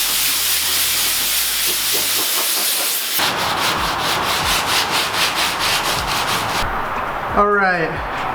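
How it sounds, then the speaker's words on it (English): Abrasive sanding strips Bondo body filler from a car's fenders, a loud, steady rasping hiss that runs throughout, changing texture partway and turning into rhythmic strokes, then ending in a squealing tone. "I'm going to take this Bondo off and then roll my fenders"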